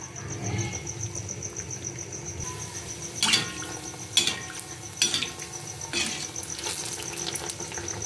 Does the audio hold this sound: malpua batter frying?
yes